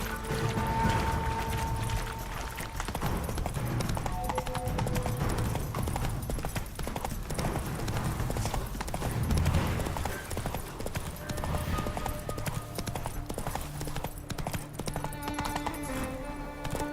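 Roach the horse gallops through The Witcher 3, her hooves pounding out a fast, steady clip-clop rhythm over game ambience and gear rattle, with a faint whinny and a brief voice.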